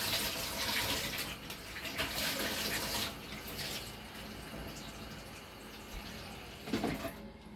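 Water pours and splashes steadily into a dish for vegetable soup, a continuous hiss with a few soft knocks and a louder splash near the end, no talk.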